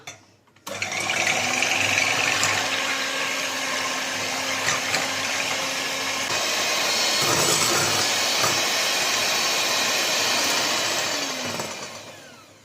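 Eggs being beaten for an orange cake batter with an electric mixer, a steady close whirring drone that runs for the whole stretch with no voices over it.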